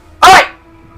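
A puppy lets out a single sharp, loud bark close by, with quiet surroundings before and after.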